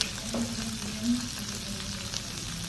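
Sliced onion and ginger sizzle steadily in a hot pan for pork and chicken adobo, a continuous close frying hiss throughout.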